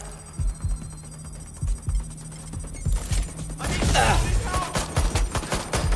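Gunfire in the video game Watch Dogs: Legion, a series of sharp shots in short bursts that thicken into a denser, louder volley toward the end, mixed with mechanical clicks and other game effects.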